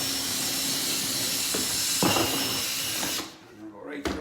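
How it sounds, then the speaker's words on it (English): A drill runs a steady, loud whir close by for about three seconds boring a pilot hole in a plastic garbage can, then cuts off, leaving quieter handling noise. "let me just kind of drill a pre-hole here"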